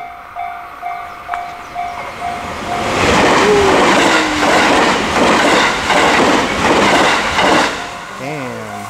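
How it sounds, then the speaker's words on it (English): A train in Kyoto, Japan approaches and rushes past with rising clatter and rhythmic wheel clicks, fading as a voice speaks briefly near the end. "Let's actually see the train pass."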